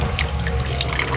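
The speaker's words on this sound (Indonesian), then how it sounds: "setelah dikocok ini airnya dikeluarin" Water is poured out of an orchid flask after shaking, a short, close trickling splash that runs steadily throughout.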